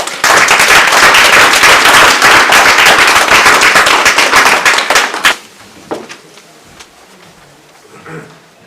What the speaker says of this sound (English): put your hands together with a very loud round of applause